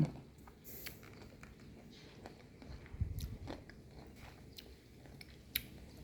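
Quiet crunchy bites and chewing of a washed marian plum (mayongchid) fruit from a Nakhon Nayok orchard, a few soft crisp snaps with one louder crunch midway, heard close up without talk.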